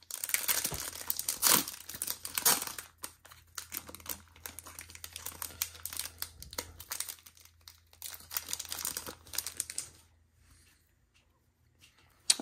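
A 2022 Topps Chrome baseball card pack is torn open, with close crinkling and crackling foil wrapper for about ten seconds. Sharp tears mark the opening, then it falls nearly quiet before a final click.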